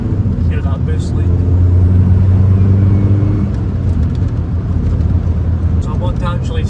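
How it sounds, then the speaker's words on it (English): A VW 1.9 TDI PD130 diesel pulling hard on a country B road with a turbo boost leak: loud, steady engine drone and road roar from inside the car. "Hear that boost leak."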